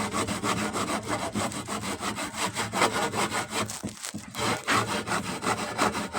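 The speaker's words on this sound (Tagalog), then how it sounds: "Maglagari tayo." A hand saw cutting through wood for a doormat frame, with steady back-and-forth rasping strokes in a fast even rhythm, close and loud with no talk over it.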